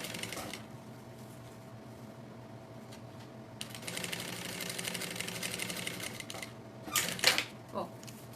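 A sewing machine topstitches a bag without catching the lining, running as a steady mechanical whir that grows busier midway, while someone speaks over it.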